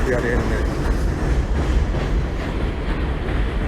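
A train rolls past near an industrial area with trucks and forklifts, giving a dense, continuous rumble and rattle that stays loud and close throughout.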